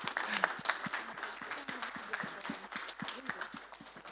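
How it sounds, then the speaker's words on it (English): Applause from a science forum audience after a talk, a steady wash of many hands clapping for about four seconds with a few louder claps standing out, moderately loud and with no talk over it. "You'll probably hear the thunderous clapping now."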